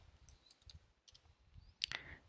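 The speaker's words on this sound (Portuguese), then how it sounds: "o que acontece quando eu aperto um link? Que foi aquilo que eu fiz agora." Computer mouse clicking a web link, a few faint, close, small clicks scattered over about two seconds with one slightly sharper click near the end, no speech.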